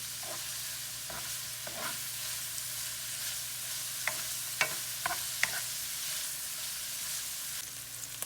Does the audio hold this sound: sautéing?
yes